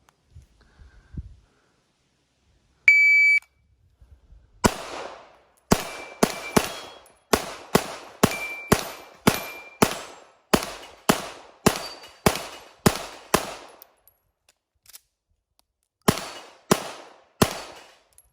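A shot timer's electronic beep is followed by a rapid string of about twenty pistol gunshots during a 3 Gun stage, sharp loud reports in quick irregular bursts with brief pauses, no talking.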